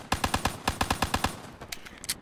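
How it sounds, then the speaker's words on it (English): Rapid automatic gunfire in the video game Black Ops 3: a quick, even burst of about a dozen sharp shots, followed by a few scattered, fainter shots. "Dang, you shoot like mad fast."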